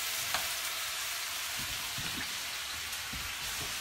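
Pieces of northern pike frying in a hot stir fry pan, a dense close crackling sizzle throughout with scattered soft knocks and pops, no talking.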